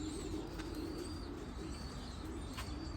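Racing pigeons in a loft coo softly amid a steady low rumble of background noise, with a few faint chirps drifting over the constant bed of sound.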